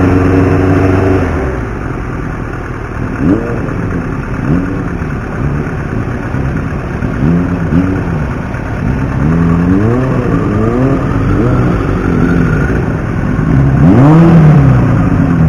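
A restored Yamaha FZ600 motorcycle engine on a test ride rises and falls through repeated revs and gear changes, loud and close with steady wind rush.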